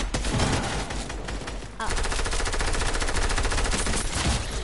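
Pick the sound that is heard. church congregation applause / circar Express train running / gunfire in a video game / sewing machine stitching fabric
gunfire in a video game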